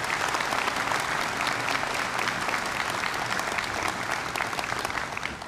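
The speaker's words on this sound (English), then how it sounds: "How about a hand of applause for all these great American warriors?" Sailors and guests at a change of command ceremony aboard the aircraft carrier USS Harry S. Truman (CVN 75) break into applause: dense, continuous clapping from a large crowd, steady and loud throughout.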